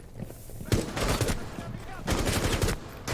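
Gunfire in Rainbow Six Siege Terrorist Hunt: two dense rapid bursts of automatic fire, loud and close, separated by a short pause, with low rumbling impacts underneath.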